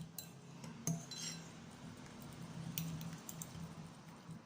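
A spoon stirs melted butter with yogurt cream in a bowl, giving a few soft metal clinks and scrapes against the bowl over a low steady background hum, close and fairly quiet.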